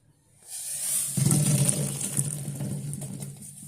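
Boiled papaya with its cooking water is tipped into a strainer, starting as a rushing splash after a brief quiet moment, then settling into a steady, close watery gush and drain without any speech.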